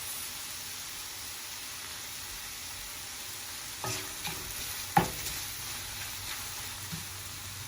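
Wild ramps and Pioppini mushrooms fry in a pan with a steady soft sizzle, while a few light stirring scrapes and one sharp utensil tap break through near the middle.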